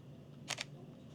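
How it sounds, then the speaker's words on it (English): A Fujifilm X-T5 mirrorless camera fires its shutter once, a quick, soft double click up close in a quiet room. "the X-T5 has a great shutter"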